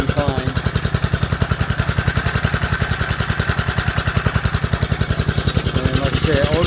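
A 1960 Tote Gote motorbike engine runs steadily after a carburetor rebuild, a close, loud, even putter of rapid regular firing pulses with no break throughout.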